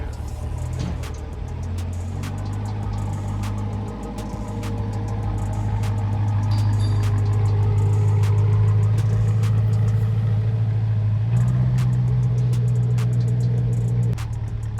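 A twin-turbo Chevrolet C8 Corvette engine running on a dyno, a steady droning hum that swells and holds higher, with rattles and clicks over it and a brief spoken word.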